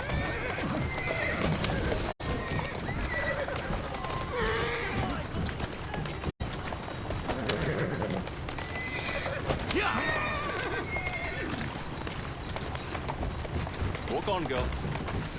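A horse in the Assassin's Creed Syndicate video game whinnies and clip-clops while pulling a carriage, with hoofbeats running steadily under game dialogue and two brief dropouts.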